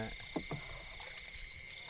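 Two soft splashes of a rowboat paddle dipping into water, then quiet outdoor ambience with a steady high insect buzz.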